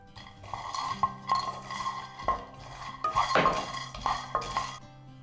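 Half a cup of peanuts dry roasting in a pan, stirred so they rattle and scrape against the metal in uneven bursts, with clinks of the utensil, fairly close and with no talking.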